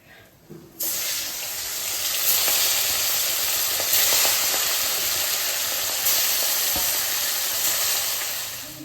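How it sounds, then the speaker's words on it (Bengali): Hilsa fish fries in hot oil in a pan, giving a loud, steady sizzle and hiss that swells after a brief quieter start and holds throughout. "এইভাবে আমি সব মাছ কটা ভেজে নেব"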